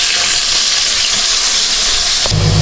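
Food frying in a pan, a steady loud sizzle and hiss of hot oil running without pause, close by and alone with no talking.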